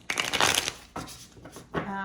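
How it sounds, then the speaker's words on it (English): Tarot cards shuffled by hand in a few quick, close bursts of papery riffling and rustling, separated by short pauses. "Give it a good shuffle."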